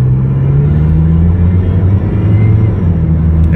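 A Toyota MR2 with a transmission problem pulls away from a dead stop in first gear, a steady loud low engine drone and rumble held throughout without breaks.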